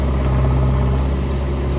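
A John Deere tractor engine running while a trolley of soil is loaded, a loud, steady low diesel rumble with constant vibration and no talk.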